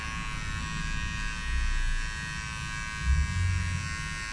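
Electric hair clippers buzz steadily through a haircut in a barbershop, a close, continuous hum that swells briefly as the blades work through hair.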